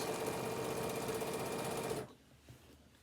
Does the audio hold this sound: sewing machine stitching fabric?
yes